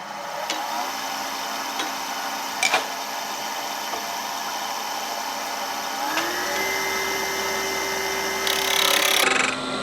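A lathe spins a wooden sphere ornament while a tool takes light cuts hollowing its inside, a steady close whir with a few sharp ticks and a shift in pitch near the end.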